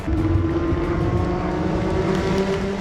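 Racing cars roaring past during a race, a dense, steady engine drone with a sustained tonal whine that carries loud throughout, with no voices.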